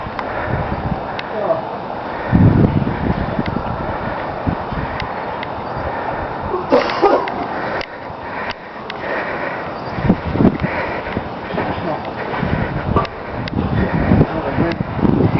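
Gusty wind buffets the microphone atop an observation tower in Parry Sound, Ontario, rumbling in uneven bursts while people talk and sniff nearby.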